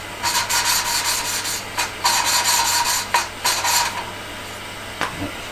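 A valve is lapped into a classic Fiat 500 engine head using lapping compound thinned with honing oil. Close, rhythmic scraping and rasping strokes come in quick bursts with brief pauses, and no one speaks.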